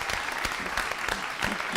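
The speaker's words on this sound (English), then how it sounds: "Why are they clapping?" An audience claps steadily throughout at moderate volume, with dense broadband patter and no voices rising above it.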